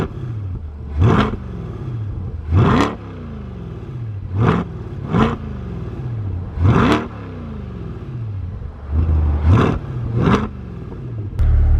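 Outside a C8 Corvette, the exhaust barks through a series of loud, sharp revs, about eight bursts rising and falling over a rumbling idle, close and unaccompanied by talk.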